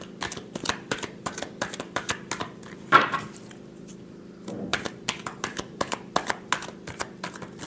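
Tarot cards are shuffled close by in quick bursts of crisp, papery riffling clicks, with one louder flurry partway through and a brief pause before the rapid shuffling resumes.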